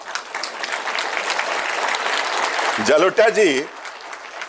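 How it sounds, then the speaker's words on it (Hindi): Audience clapping at a port's golden jubilee event, sustained crowd applause that keeps going while someone speaks briefly toward the end. "यहाँ हाथ ताली होना चाहिए."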